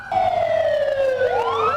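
A siren on an emergency vehicle sweeps down and then rises again along Manila's Roxas Boulevard during a city-wide earthquake drill, loud and close above a faint background rumble.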